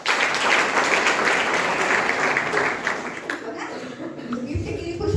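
Audience at a library user awareness programme applauding to thank the Madhya Pradesh government, a dense, steady clapping that fills the room and then thins out toward the end.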